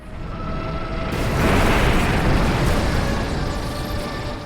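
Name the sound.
Godzilla atomic breath attack in Shin Godzilla film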